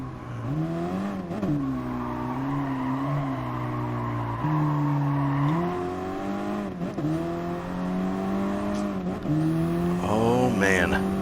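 A race car engine in the Gran Turismo video game, a loud continuous drone shifting pitch as it accelerates through gear changes, with a brief tire squeal near the end.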